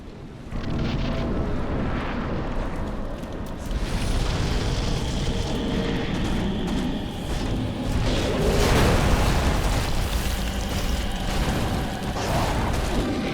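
Rumbling, booming explosions from a boss attack in Dark Souls 3, a dense roar of blasts and fiery bursts swelling and fading continuously at close range.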